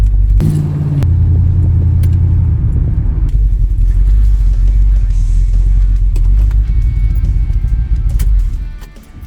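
A 1979 Corvette C3 engine runs with a deep, steady idle rumble close by, a brief rev at the start, then a continuous low throb before fading at the end.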